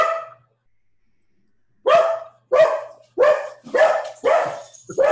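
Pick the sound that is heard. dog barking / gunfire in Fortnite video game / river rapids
dog barking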